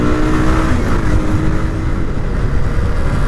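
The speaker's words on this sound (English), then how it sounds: "this is the epic bike of Bajaj M80" A Bajaj M80 motorbike engine runs steadily close by, a loud continuous rough drone with a low throbbing putter, in the old town of Banavasi, Karnataka.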